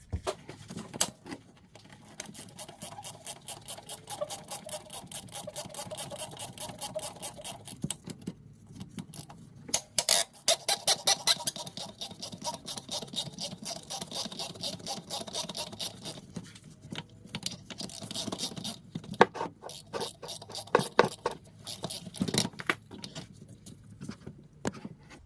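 A ratchet works the four AC compressor mounting bolts on a Hyundai Sonata, giving repeated bursts of quick metallic clicking at close range with brief pauses between them.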